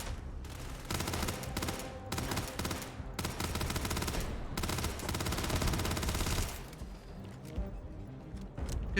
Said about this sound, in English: Hey, good shots, dude